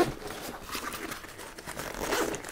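A zipper is drawn open on an MFH Mission 30 military backpack, giving one steady, close rasping pull with a slight tearing texture that lasts a couple of seconds.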